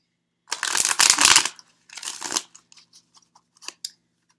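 A deck of tarot cards is riffle-shuffled in two quick rustling bursts, followed by a few soft taps and clicks as the cards settle.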